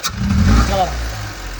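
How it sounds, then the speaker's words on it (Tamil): Volkswagen Polo engine with a misfire from a fuel pump fault, revving up briefly: a mid-pitched engine roar that rises and drops within about a second, then settles to a rough idle. "இன்ஜின் ஒரு சில நேரம் விட்டு மிஸ்ஸிங் வருது."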